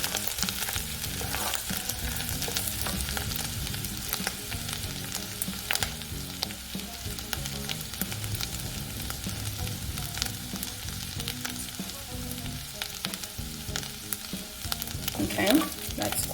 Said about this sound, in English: So we don't want to burn the garlic, we just want to saute it just a tiny little bit.